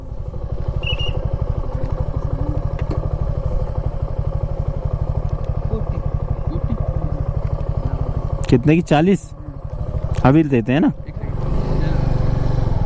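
A motorcycle idles with a steady, close, rumbling engine in a parking area at cloud-covered Laitlum Canyon in Meghalaya. Voices briefly break in near the end while the engine keeps running.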